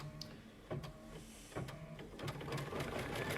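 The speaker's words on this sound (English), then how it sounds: "we're going to go ahead and sew the final sew out" A sewing machine stitches the final sew-out of a bunny-shaped trivet. Its rapid, even mechanical whir runs continuously with rhythmic needle knocks and grows a little louder toward the end, with no voices.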